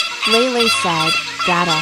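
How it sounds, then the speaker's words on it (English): Hooting flamingos call in a few honking, nasal bursts, loud and close, while a storyteller reads aloud over them. "that is the sound of hooting flamingos"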